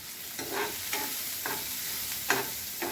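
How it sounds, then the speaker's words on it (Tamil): Onions sautéing in oil in a pan on a home stove give a steady sizzle, broken by several soft scraping stirs of a spoon at a fairly even pace, close and moderately loud with no voices. "வெங்காயம் வதக்கிட்டு இருக்கேன்."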